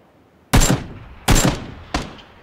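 Video game gunfire during a firefight on a bridge, with three or four heavy, booming shots about a second apart, each with a sharp attack and a rolling decay, alone and with no voices.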